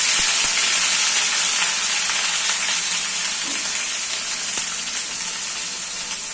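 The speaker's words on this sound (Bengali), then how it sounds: "এখন আমি রান্না শুরু করছি। পেঁয়াজ বাটা দিয়ে দিব 2 টা চামচ, 2 টেবিল চামচ।" Onion paste sizzling steadily in hot oil, two tablespoons added to the pan for a tilapia fish curry: a loud, even hiss of frying that runs throughout without pause, close by and with no talking.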